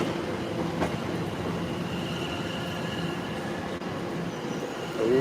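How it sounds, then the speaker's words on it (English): A Class 710 electric train arrives at a station, rumbling steadily past at close range, its wheels squealing faintly over a continuous roar, with no talking. "this is the train from London Underground, which is now arriving at class 710"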